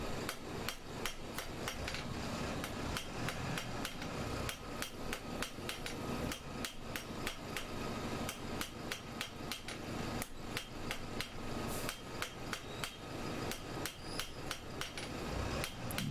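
Hammer tapping repeatedly and quickly while fitting window stays, a long run of sharp, close metallic knocks in an even rhythm with no voices.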